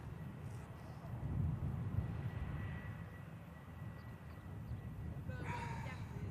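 An Atlas Air Boeing 747 departs, its jet engines giving a steady, distant roar with a broad low rumble that swells slightly and holds throughout.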